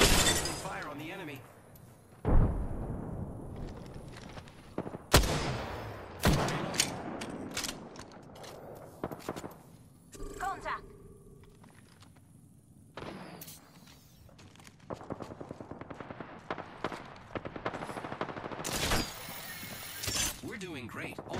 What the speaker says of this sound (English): Enough, I'm getting shot at.